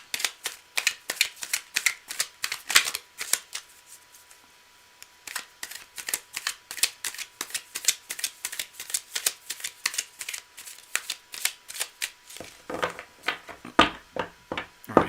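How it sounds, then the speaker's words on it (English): Tarot cards being shuffled by hand in repeated quick riffling bursts, crisp and close, with a short pause partway through and a slightly heavier flurry near the end; no talking. "Let me just do a couple more shuffles here for you."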